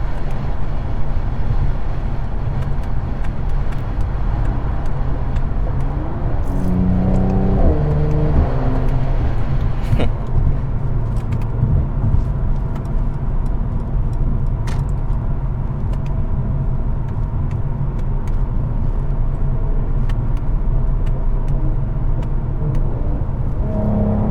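A loud Mercedes C43 AMG engine with AMG performance exhaust drones steadily with a deep exhaust rumble, rising briefly as it revs, heard from inside the moving car with the sunroof open.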